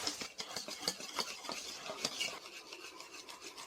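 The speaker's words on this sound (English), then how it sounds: "We add it little by little and keep stirring with a whisk to avoid lumps" A whisk scrapes and swishes rapidly through batter as flour is worked in, a quiet close rhythmic rubbing with irregular strokes and no talking.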